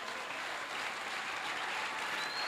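A church congregation applauds the Lord during a service, a steady wash of many hands clapping at moderate distance, sustained and even for the whole stretch without speech.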